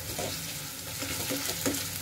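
Potatoes fry in a wok with a continuous, dense sizzle, with soft stirring and scraping sounds rising over it now and then, close and fairly even in level throughout.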